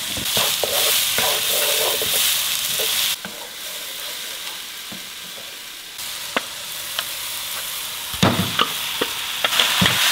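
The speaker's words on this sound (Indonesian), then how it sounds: "bawang putih bawang bombay sekali digoreng aja ya ditumis maksudnya" Garlic and onion sizzle and fry in oil in a pan, with a steady hiss broken by repeated clinks and scrapes of stirring, close and loud, with no talk.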